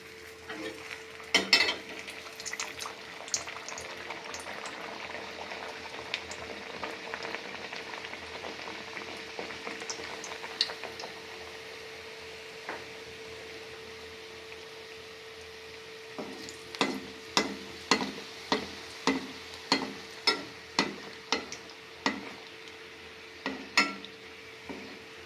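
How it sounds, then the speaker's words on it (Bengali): Luchi, puffed flatbread, frying in hot oil with a steady, moderate bubbling sizzle, joined later by a quick run of sharp clinks and taps of a utensil against the pan; no one speaks. "আমি এখন লুচিগুলি ভেজে নিচ্ছি।"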